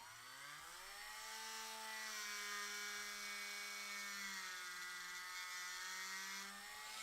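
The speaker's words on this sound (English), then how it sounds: "we're going to drill down until we feel this piece stop it" A power drill bores into the ankle of a plastic AxyToys Dinosaur Warrior toy, its motor whine climbing in pitch at first and then holding a steady, close, continuous drone throughout, with no talking.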